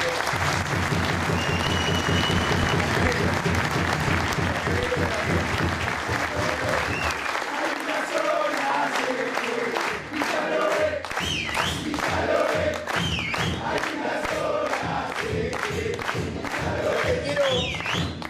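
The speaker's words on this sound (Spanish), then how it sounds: "Un fuerte aplauso para ellos" A large crowd applauds loudly and steadily, with cheers and shouts rising over the clapping as it continues.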